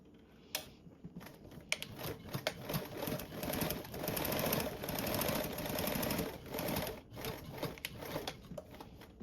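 A sewing machine runs a seam along one side of the fabric with a fast, rattling stitch. It is close and moderately loud, speeding up and slowing down, with short pauses and small clicks in between.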